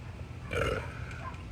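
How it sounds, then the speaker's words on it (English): A single close, loud burp after eating a very hot Crackberry pepper, a short guttural belch lasting under a second. "Oh, and a pepper burp that quickly."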